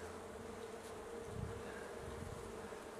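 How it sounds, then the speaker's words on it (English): Honeybees buzzing around an opened hive during a spring inspection, a dense continuous drone of many insects with individual bees passing close now and then, no talk. "the bees are getting a bit more agitated now"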